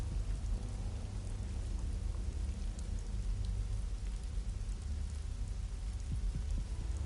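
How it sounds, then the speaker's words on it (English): Steady, soft rainfall with a low rumble underneath, constant and even throughout, with no voices, in the video game Wuthering Waves. "I like how it's raining"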